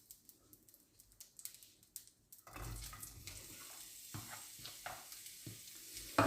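Onions going into a hot pan for a savory Alsatian kougelhopf filling, starting quiet, then a sudden steady sizzle of frying with stirring scrapes and clatter, close and moderately loud, no voices.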